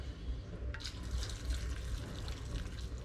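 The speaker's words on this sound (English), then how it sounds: "now I'm going to add some water out of here." Water pours into a slow cooker over beans and bacon for a barbecue bean dish, a steady close splashing trickle with no voices.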